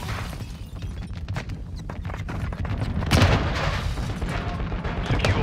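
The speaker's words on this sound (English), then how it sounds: "Hostile mortar strike in the area." Mortar strike explosions in Call of Duty: Modern Warfare II rumble as a dense, continuous barrage of booms and gunfire-like blasts, swelling louder midway with a heavy impact and staying thick to the end.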